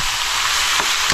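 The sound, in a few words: duck meat sizzling as it goes into the pan for adobo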